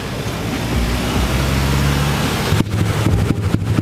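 Honda Absolute Revo motorcycle engine fitted with a Scarlet PE28 carburetor, running with a loud rough drone and wind buffeting, then settling into a choppy, uneven idle putter near the microphone.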